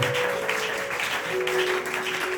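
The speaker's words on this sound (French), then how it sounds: "Ces acclamations ne sont pas dignes pour Jésus." Applause from a church congregation during a youth service: a short, steady wash of clapping at moderate level, with a held musical tone beneath it.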